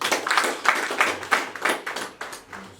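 A church congregation claps in a steady rhythm, with crisp repeated handclaps at roughly even intervals, close and moderately loud.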